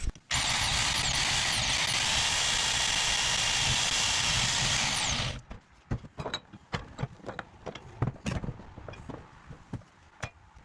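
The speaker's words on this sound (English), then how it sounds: "I'm just gonna kind of cut right there with the Milwaukee portable bandsaw" A Milwaukee portable bandsaw cuts metal on an LS-swapped S10 pickup, a loud, steady grinding whine for about five seconds that stops abruptly, followed by scattered clanks and knocks.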